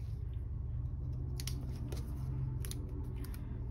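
Scissors snip through stickers on a paper planner spread, a few crisp cuts near and clear over a steady low hum, with no talking.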